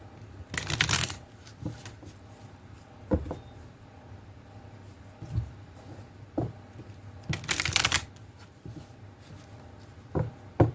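A deck of cards for a pick-a-card reading is shuffled in two quick, crisp riffle bursts, separated by soft handling taps and card slides, close up and quiet, with no talking.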